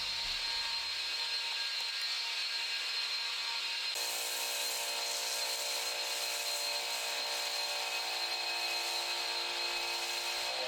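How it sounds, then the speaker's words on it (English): An electric 2300 psi pressure washer runs steadily while spraying snow foam from a foam lance, a constant loud hiss and whine that jumps in intensity partway through. "I have an electric pressure washer, 2300 psi, nothing overly powerful"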